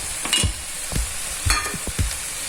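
Mutton hits hot oil in a pan and is stirred, a constant sizzle punctuated by several low thumps and scrapes from the spoon, close and loud with no talking.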